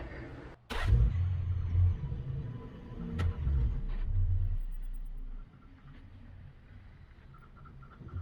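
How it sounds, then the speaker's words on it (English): A Ford Raptor pickup truck's engine rumbles low and steady close by while the truck is turned around, with a brief rev near the start and no talking. "So I'm gonna turn this truck around and we're gonna do the front."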